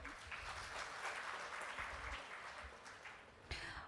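A conference audience gives a steady round of applause, dense, even clapping from many hands that continues throughout, fairly faint and distant.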